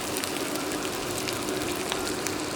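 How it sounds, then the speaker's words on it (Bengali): Water poured into a pan of fried potatoes for a potato dopiaza curry gives a steady, close, rain-like patter and hiss that holds even throughout, with no talking. "এবার আমি পানি দিয়ে দেব।"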